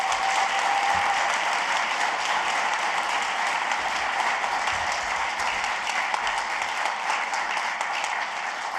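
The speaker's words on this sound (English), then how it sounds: "let's give a well-earned round of applause to our coaches, staff, and student athletes." Sustained, dense applause from an audience at a university athletics press conference introducing a new athletic director, a loud, even roar of many hands clapping throughout.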